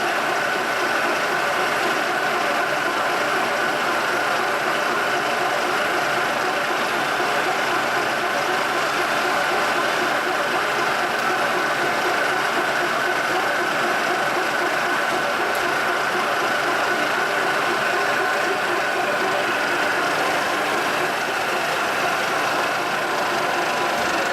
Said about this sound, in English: This is high speed. Basically running the motors at 1800 or 900 RPMs.